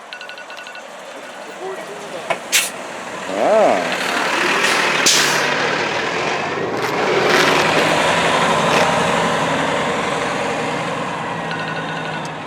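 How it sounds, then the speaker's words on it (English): A public bus passes outside a state correctional institution in Delaware, its engine rumbling steadily with a brief air-brake hiss near the start, while a person speaks briefly over the traffic noise. "Yeah, here's the public bus."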